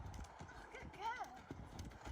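An ex-racehorse ridden bareback, its hooves clip-clopping in a steady, muffled rhythm beneath a faint whinny-like call midway, under quiet talk from the rider.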